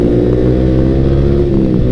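A Yamaha R15 V3 with a long Ronin Hanzo NextGen racing exhaust revs up close, a loud, steady, throaty drone with a fairly restrained tone and no talking.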